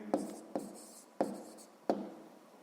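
Pen on paper writes out a number, four quick scratchy strokes close and quiet, each a short burst of scribbling with small pauses between, no voice over it.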